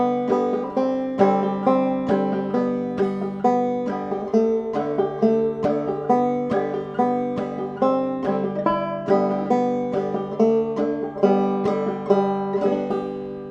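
Banjo picking the melody of Boiling Cabbage Down as single notes without chords, a bright, steady stream of plucked notes in an even rhythm, played alone.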